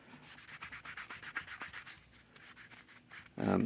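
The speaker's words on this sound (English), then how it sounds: "So I'm sitting here kind of sanding it smooth" Sandpaper rubs rhythmically over a 1/4-scale Aquaman model sculpture, quick soft scratchy strokes close up, ending in a louder thump.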